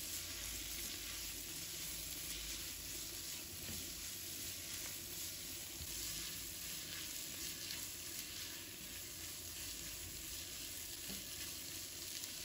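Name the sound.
stir-frying green beans over high heat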